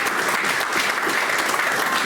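An audience at a poetry and music gathering claps. The applause is dense and steady throughout, sounds like a mid-sized crowd and is fairly close, with no voices over it.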